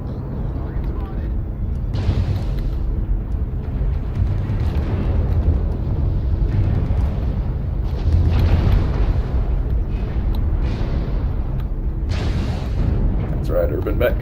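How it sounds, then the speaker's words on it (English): Artillery strike explosions in the MechWarrior Online game land as a series of deep booming blasts, several heavy impacts spread across the stretch over a constant low mechanical rumble, with a voice speaking among them. "Artillery strike online."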